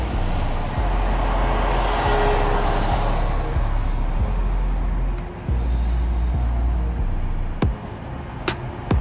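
Steady road traffic heard from inside a moving vehicle on a busy spring-break stretch by a river walk, a continuous low rumble and road noise with a few sharp clicks and brief swells, no talking.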